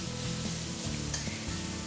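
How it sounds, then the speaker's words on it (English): Shredded potato sizzles loudly in a very hot wok while being stirred, a steady close frying hiss with scraping stir strokes running throughout and no talking. "Gently stir them around evenly and keep the same process over and over so that the potato doesn't stuck to the bottom."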